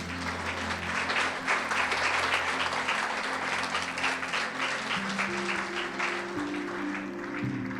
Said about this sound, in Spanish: Aplauda a Cristo allí.